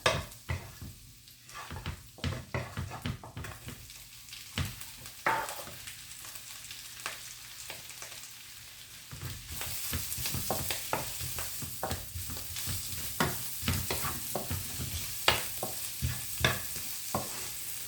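Vegetables stir-fried with browned garlic in a hot pan for beef rice noodles, with steady sizzling and repeated scraping stirs, the frying growing louder and denser partway through.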